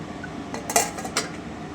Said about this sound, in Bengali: আমি কোপ্তাগুলোকে একটু ঢেকে রাখছি।